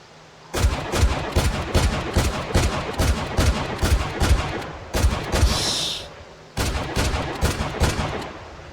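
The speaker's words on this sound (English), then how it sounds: "So I bring out the shotgun to give it a shot." A shotgun fires at zombies in the survival game Project Zomboid, a rapid string of loud, blasting shots with rattling echoes, briefly broken by a higher whistling sound before another volley.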